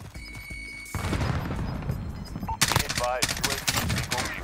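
Unmodified guns with no attachments fire in a Warzone match: after a quieter stretch with a tone, dense close bursts of automatic gunfire break out, growing sharper and rapid toward the end, with a player talking over it.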